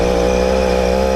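A motorcycle engine runs at idle with a loud, steady, close droning hum that holds even throughout, with no talking.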